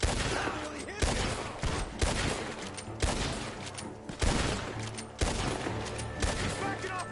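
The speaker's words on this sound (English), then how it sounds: "The gunshots are coming from that barn." Gunfire from a barn in a video game comes as rapid, loud volleys of shots, repeating in bursts about once a second in a rough rhythm, with no talking over them.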